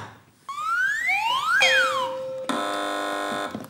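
A game show contestant buzzer on a comedy news quiz panel: rising electronic sweeps and bright tones, ending in a sustained steady buzz. It is loud and close, with no talk over it.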